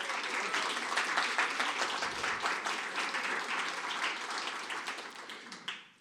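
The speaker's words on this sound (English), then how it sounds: "Could we get a round of applause for all of our supporters," A seated audience at a literary conversation event gives a sustained round of applause, dense and even clapping that holds steady before tapering off at the end.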